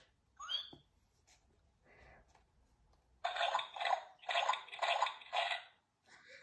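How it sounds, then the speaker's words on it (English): Cartoon pigs jumping in muddy puddles make quick rhythmic splashes, four or five wet bursts, following a few quieter squeaks and sounds. "Everyone is having a wonderful, noisy time jumping and splashing."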